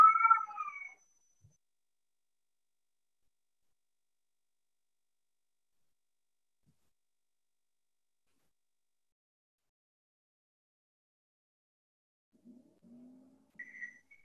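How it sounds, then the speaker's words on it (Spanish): A domestic cat gives one short, fairly faint meow at the start, followed by a long silence and a soft, brief murmur of sound near the end. "Ahí está el gato que molesta."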